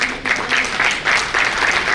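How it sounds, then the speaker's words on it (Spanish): Applause for women at an event, a crowd clapping steadily in brief swelling bursts, fairly loud and close, with no speech over it. "Aplauso para ellas."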